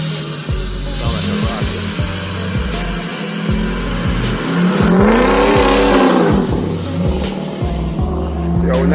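A 900-horsepower truck engine revs hard nearby, loud and roaring, with repeated rising and falling pulls and a steady low rumble throughout.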